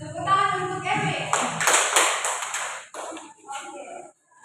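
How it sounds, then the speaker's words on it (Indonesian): Classroom applause for a student named Erwin during a guidance lesson, a burst of hand claps rising around the middle and thinning out, mixed with voices talking underneath. "Oke, tepuk tangan untuk Erwin."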